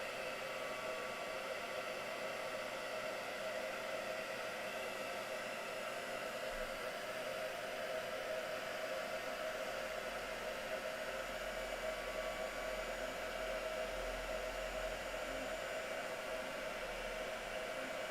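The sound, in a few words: heat gun used for heat embossing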